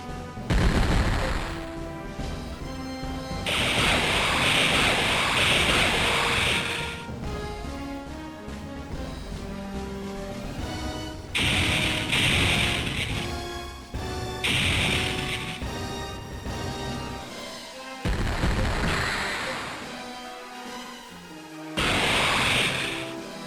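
Rapid bursts of heavy gunfire from an enemy ship's barrage in the space combat game Infinite Space on Nintendo DS, loud crashing volleys recurring in several waves over a music-laden background.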